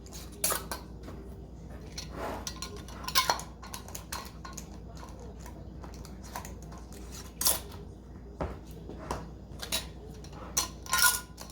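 Metal lids being screwed finger tight onto glass canning jars while preparing a pressure-canned carnitas batch, with scattered clinks and short scraping twists spaced irregularly, close and fairly quiet.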